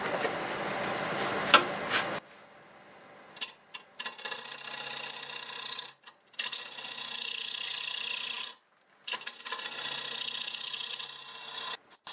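Hard pear wood is turned on a lathe at about 1000 RPM with a sharpened 5/8 bowl gouge: repeated close bursts of rasping cutting noise broken by brief silences as the gouge comes off the wood.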